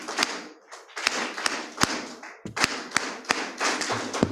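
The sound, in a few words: audience clapping for presenter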